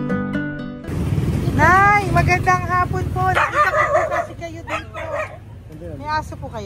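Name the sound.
dog barking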